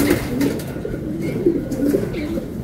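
Racing pigeons from a 255 km race lap out of Vigan coo close by in a low, continuous murmur of overlapping throaty calls.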